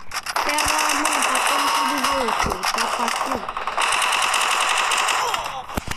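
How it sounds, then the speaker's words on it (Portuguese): Rapid automatic gunfire in a shooting video game, loud sustained bursts of rattling shots with brief pauses, mixed with pitched in-game sounds as a player talks over it. "Mais de não sei quantos tiros nesse cara."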